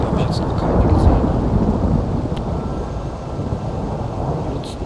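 A loud Skyrim thunderstorm: heavy rain hisses continuously with deep rolling thunder swelling and fading beneath it, no speech.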